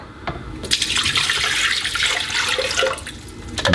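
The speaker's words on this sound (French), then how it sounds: "verser un demi-litre d'eau dans le bol du robot de cuisine Mambo" Half a litre of water pours into the stainless steel bowl of a Mambo kitchen robot, a close, continuous splashing rush that swells after a brief pause and runs steadily to the end, without speech.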